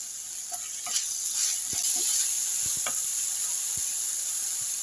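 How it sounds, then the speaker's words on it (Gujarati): Finely chopped small tomato with salt sautés in a pan for an eggplant dish, giving a soft steady sizzle with a few faint scattered clicks and stirring taps. "થોડુંક આપણે મીઠું પણ નાખશું એટલે જલ્દી સંતળાઈ જાય।"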